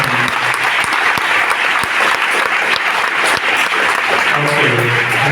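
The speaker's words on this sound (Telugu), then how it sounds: "అందరం ఒక్కసారి గట్టిగా చప్పట్లు కొట్టి కృతజ్ఞతలు తెలియజేద్దాం" A church congregation breaks into loud, sustained applause, dense clapping from many hands filling the space close by, with a voice briefly audible toward the end.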